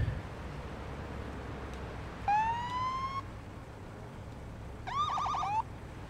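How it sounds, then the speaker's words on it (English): A police car siren in the Police Simulator: Patrol Officers video game sounds in two short wailing bursts, a rising whoop followed by a quicker yelping burst, over quiet engine hum with no talk. "I should probably go lights and sirens to this anyway"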